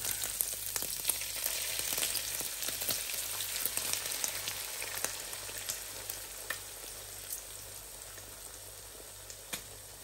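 An omelette of beaten eggs fries in a pan with a steady, fairly quiet sizzle and scattered crackles, a low hum running beneath, and no voices.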